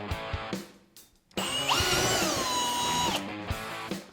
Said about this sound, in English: We are going to go and drill that hole.